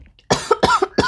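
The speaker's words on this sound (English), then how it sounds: "Excuse me if you hear me coughing or anything" A person who is sick lets out three harsh, loud coughs in quick succession, close and alone with no talking.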